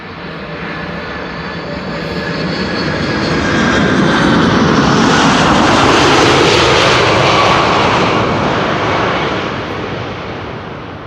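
An airliner arriving at Amsterdam Schiphol Airport roars overhead, its engine noise rising from a distant rumble to a loud, broad whoosh, then fading away as it passes.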